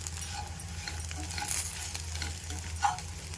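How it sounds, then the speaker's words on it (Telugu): Tindora being stirred and roasted with turmeric and salt in a hot pan, giving a steady close sizzle with soft scraping strokes and one brief louder clink, no talking. "కొద్దిగా పసుపు ఉప్పు వేసి ఒకసారి బాగా కలుపుకుందాం"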